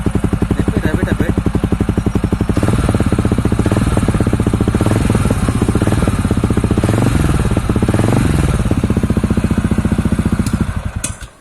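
A TVS Ronin 225 motorcycle engine revved up from idle, the exhaust rising and falling through a few blips over a steady close thumping beat, then cutting off at the end.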